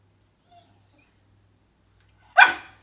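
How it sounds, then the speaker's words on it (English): A single sharp bark from a Staffordshire bull terrier, close and loud, after a stretch of near silence. "So again, the barking doesn't get what he's looking for."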